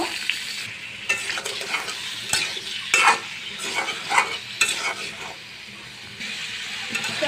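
Radish and potato pieces fry in hot oil with a loud, continuous sizzle, punctuated by repeated scraping and clinking as they are stirred in the pan.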